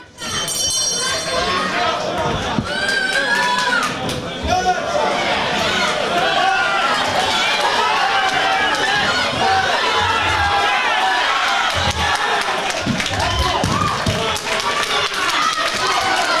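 Crowd at an amateur boxing club home show cheers loudly for the home boxer in the red corner, with sustained shouting, clapping and chatter throughout.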